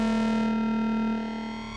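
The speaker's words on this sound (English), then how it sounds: "The voltage controlled filter with VCO2 high frequency oscillation, audio oscillation." An ARP 2600 synthesizer's voltage-controlled filter driven at audio rate by VCO2 gives a buzzy, harmonically rich sustained drone that dulls slightly partway through, steady and alone.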